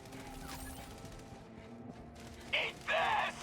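Turret gunfire in Helldivers 2 comes as two short, loud bursts of rapid shots close by, separated by a brief gap, against a low background hum.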